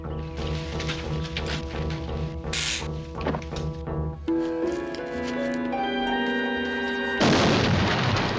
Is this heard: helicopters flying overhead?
no